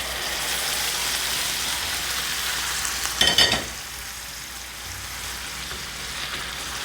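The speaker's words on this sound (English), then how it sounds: "Now let's add half of a cup of Espagnole sauce." Espagnole sauce poured into a pan of reduced brandy with a sprig of thyme for a steak sauce gives a steady loud sizzle, briefly swelling into a burst of hissing bubbling before settling back.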